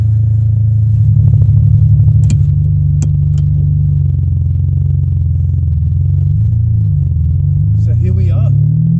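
Ferrari 550 Barchetta with a V12 engine, heard from inside as a steady low rumble while driving, with a few brief clicks and a short voice-like rise near the end.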